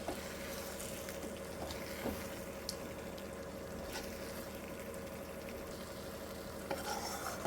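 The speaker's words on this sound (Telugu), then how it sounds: "ఇప్పుడు ఉడకబెట్టిన ఎగ్స్ని కర్రీలో వేద్దాము మసాలా బాగా ఉడుతుంది" Boiled eggs simmering in a masala curry, giving a steady low bubbling sizzle with faint scraping, a continuous close texture with no talk.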